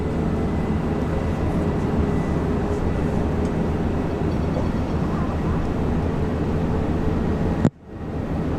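Jetstar airliner in new livery at Brisbane Airport, a steady loud jet engine roar that stays constant before cutting off abruptly near the end.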